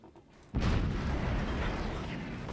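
A single loud artillery shot booms out in the Forts video game, a sharp onset followed by a heavy, sustained rumbling roar that stays loud to the end.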